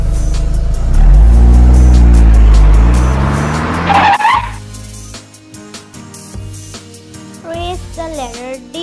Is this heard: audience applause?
no